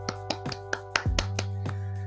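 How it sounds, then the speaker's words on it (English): Several sharp hand claps right into a microphone, about half a dozen quick close bursts in an uneven rhythm, with a steady low hum behind them. "Clap into the mic real quick."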